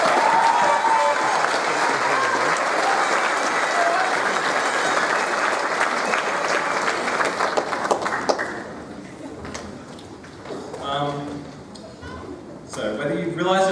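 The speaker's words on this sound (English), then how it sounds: "Give me a clap." A school assembly audience applauds the leadership team on stage, a long dense wash of clapping that tapers off, followed by a few scattered claps and talk.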